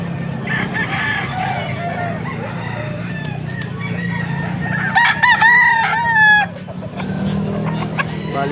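A young rooster, a stag, crows close by at a fowl sale in Bocaue, its loud cock-a-doodle call rising over steady clucking and farmyard background noise.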